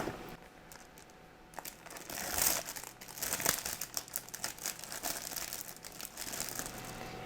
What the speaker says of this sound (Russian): Внутри нас встречает пакет с литниками и инструкцией.